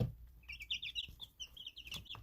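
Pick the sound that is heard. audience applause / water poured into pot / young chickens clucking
young chickens clucking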